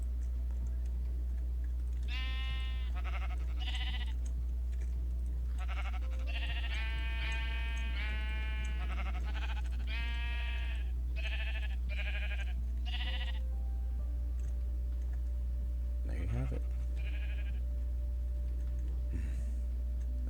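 Sheep on an automatic shearing farm in Minecraft Bedrock 1.14.60 bleat repeatedly in quick overlapping bursts, clear and fairly close over a steady low hum, with a short pause near the end.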